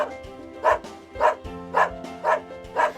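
A dog barks five times in a steady, evenly spaced rhythm, each bark loud and close over a low background hum.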